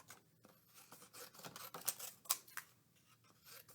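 Scissors cut paper into long leaf and pod shapes for a hyacinth craft, with a rapid run of close, crisp snips and some paper rustling.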